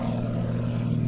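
Steady, loud drone of a propeller engine on an Extra aerobatic aircraft with a carbon-fibre airframe, holding a constant low hum throughout with no voices.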